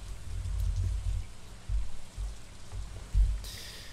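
Steady rainfall from the farming video game Stardew Valley, a soft continuous hiss with light patter, with intermittent low rumbling thumps underneath.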